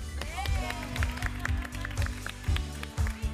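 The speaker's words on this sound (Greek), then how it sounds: "Χειροκροτήσατε τον πρώτο" A studio audience on a dating show claps in a steady, rhythmic beat for the first contestant's entrance, with sharp, evenly spaced claps and background voices.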